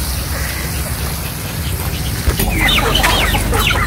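Hens, including Aseel chickens, cluck and murmur in a coop over steady background hiss, with a sharp knock midway and brighter, busier clucking toward the end as feed is brought.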